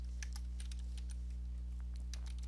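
Light, scattered keystrokes on a computer keyboard while coding, faint and close over a steady low electrical hum.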